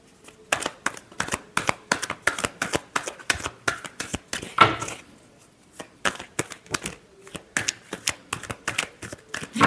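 Tarot cards being shuffled by hand, close and crisp, in a rapid run of repeated riffling bursts with a short pause midway before the rhythmic shuffling resumes, with no talking.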